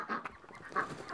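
Ducks quack nearby in a few quick, nasal honks, with a brief bright call rising near the end.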